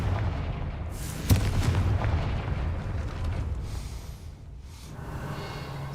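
A Confringo blasting spell goes off in the Hogwarts Legacy video game, a single sharp boom near the start over a dense, rumbling game soundscape that rolls on steadily with no one talking.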